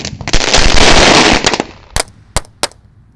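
Paper-wrapped Roman candle firework firing close by: a loud dense burst of rapid crackling bangs lasting about a second, then three sharp separate pops spaced out as it finishes.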